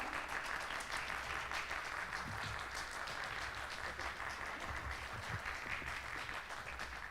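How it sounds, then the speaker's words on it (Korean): Audience applause greeting a poet at a talk event, a steady wash of many hands clapping at a distance, fairly faint and continuous throughout. "큰 박수 부탁드립니다."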